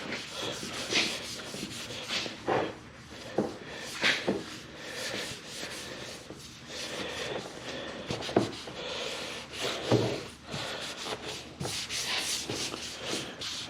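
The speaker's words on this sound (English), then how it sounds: "Just wipe the entire thing down with wax and grease remover" A car panel on a salvaged Mini Cooper being wiped down with wax and grease remover, repeated close rubbing and cloth swipes in an uneven rhythm, with no speech.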